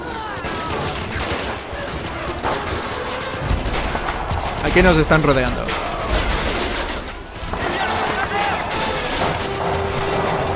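In the Stalingrad battle of the Call To Arms video game, gunfire sounds as repeated rifle and machine-gun bursts with heavier blasts near the middle, mixed with battlefield noise while someone speaks Spanish.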